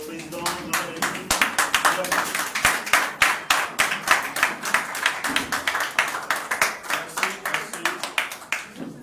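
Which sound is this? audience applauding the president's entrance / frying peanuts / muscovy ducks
audience applauding the president's entrance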